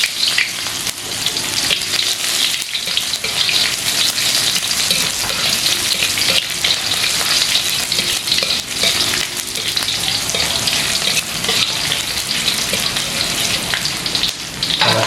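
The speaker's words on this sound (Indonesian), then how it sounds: "Yang pertama kita mau numis toge dulu. Di sini ada bawang merah, bawang putih masuk." Bean sprouts, shallots and garlic stir-frying in a pan, a loud, dense, crackling sizzle that runs continuously with frequent stirring scrapes, close and without voices.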